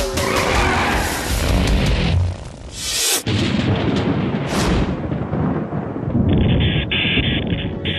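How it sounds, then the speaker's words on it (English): Heavy thunderstorm rolling in over the Full Throttle Saloon biker bar, with loud, sustained rumbling and crashing bursts across the whole stretch, broadband and powerful, no speech over it. "heavy thunderstorms move in"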